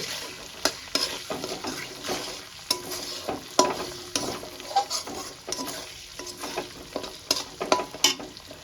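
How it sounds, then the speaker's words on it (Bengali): Whole dried red chillies and fennel seeds crackle in oil as a tempering for doi chicken, a close sizzle punctuated by repeated sharp stirring scrapes and pops throughout. "ফোড়নটা আমি একটু ভেজে নেব।"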